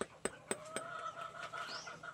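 Hens cluck softly around their feed on a Filipino backyard egg farm, with a few sharp taps and short clucks close by over a quiet background.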